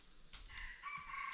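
Wild junglefowl crow faintly in the distance in a forest, a thin drawn-out call rising over quiet background rustle.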